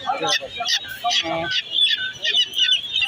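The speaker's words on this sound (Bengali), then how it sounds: "আর কি কি আছে এই হচ্ছে চিটি মুরগি" Chickens cluck and squawk close by at a busy poultry and pet bird market in Tongi Bazar, Gazipur. The bird calls come in repeated bursts mixed with crowd talk and market bustle.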